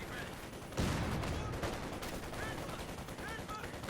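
MG-34 machine gun fire rattles through a Company of Heroes 2 battle, a dense continuous wash of gunfire and combat noise with a sharper burst early on.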